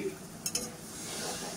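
A spoon stirs paneer masala in a pan with a splash of water added to the spiced mixture, giving brief clinks and scraping over a soft, steady sizzle, close and fairly quiet.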